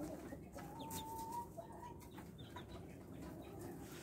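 Chickens pecking at beetroot, with soft clucks and brief calls close by over a steady low background hum, faint overall.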